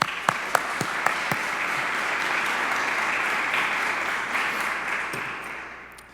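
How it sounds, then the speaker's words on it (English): Sustained audience applause fills the room after a welcome address at the Future Space 2025 event, opening with a few sharp claps and holding steady before tapering off at the end. "if we could just collectively recognize them with a round of applause for all their great work,"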